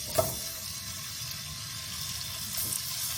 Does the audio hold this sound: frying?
yes